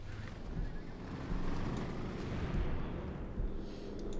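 Mortar and artillery fire from a mortar emplacement in Company of Heroes 2, a continuous low rumbling barrage with dull booms rolling under a steady wash of battlefield noise, no talking.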